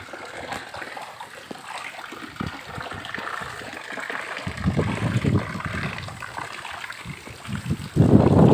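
Heavy monsoon rain pours onto a flooded rooftop, a steady rushing and splashing wash of water that continues throughout and swells louder toward the end.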